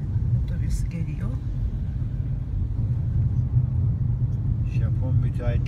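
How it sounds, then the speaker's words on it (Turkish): A bus approaches on a seaside road in the Hayama area between Tokyo and Kamakura, heard as a steady, heavy engine and road rumble that holds throughout with faint higher noises on top. "Otobüs geliyor."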